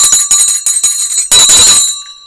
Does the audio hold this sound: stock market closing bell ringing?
yes